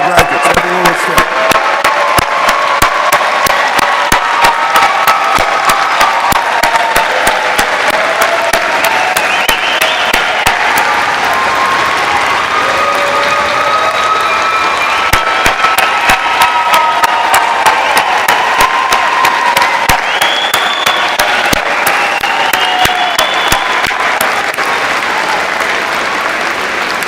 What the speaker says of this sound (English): Let's stand and applaud our graduates.